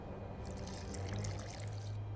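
Water pours in a steady trickle inside The Witcher 2 video game, a short continuous splash lasting about two seconds at moderate level over a faint low hum.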